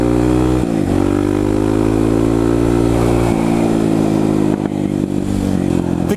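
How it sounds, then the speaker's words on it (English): A Kawasaki KLX 250 dual sport motorcycle revs up hard and loud close by, its engine note rising through the gears, with a brief dip around the shift before pulling on steadily. "the KLX, even though it's just a 250, accelerates really damn hard"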